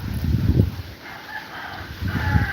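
A rooster crows on a typhoon-soaked farm in Aklan, a moderately distant call standing out over low rumbling background noise.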